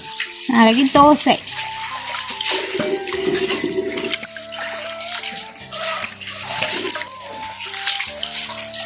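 Water sloshes and splashes as urad dal is rubbed by hand in a bowl to strip the husks for village-style dosa batter, close and steady with occasional louder swishes and a voice now and then.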